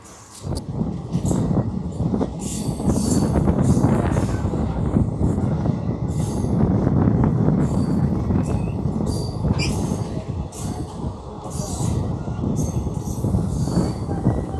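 A MEMU commuter train pulls away from Manoharabad junction station, its steady loud rumble of wheels and cars filling the air, with occasional high metallic squeals from the wheels on the rails.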